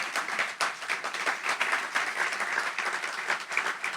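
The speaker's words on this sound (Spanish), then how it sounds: "Denle un aplauso al Señor." A church congregation gives the Lord a round of applause during a sermon, a lively, fluctuating patter of many hands clapping at once, close and continuous.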